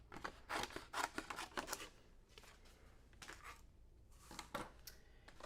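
Scissors or a trimmer slicing down the center of a card panel, with several short crisp cutting snips in quick bursts, then a pause and a few more close, quiet cuts.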